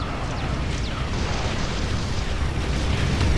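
Explosion of an enemy structure in the real-time strategy game Ground Control, a dense rumbling blast that keeps roaring steadily and loudly for several seconds with no talk over it.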